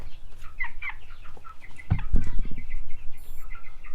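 Meat chickens cluck and chatter inside a barn, with many overlapping calls near and far and a few louder squawks over a steady background hum.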